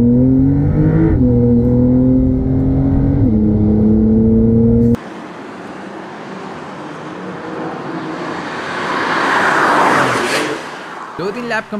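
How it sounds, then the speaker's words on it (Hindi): A supercar engine races around a track in a driving video game, first heard as a steady high rev with gear shifts under a speaker talking, then as a rushing whoosh of speed that swells and fades. "मैं इधर पीछे माइकल अपनी गाड़ी भगा रहा है भाई"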